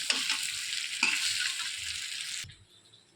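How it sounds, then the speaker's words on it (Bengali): Fried chicken is stirred into masala in a pan with a spoon, giving a loud, close sizzle and a few sharp scraping strokes before the sound drops away near the end. "নেড়ে চেড়ে মিশিয়ে নেব।"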